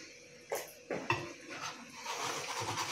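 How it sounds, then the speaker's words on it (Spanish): Pieces of buttered bread being flipped in a frying pan: a few sharp metallic clinks and scrapes of a utensil against the pan, then a soft steady sizzle. "Vamos a darle la vuelta a las que ya tenemos en la sartén."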